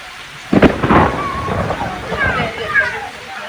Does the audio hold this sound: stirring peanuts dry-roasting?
no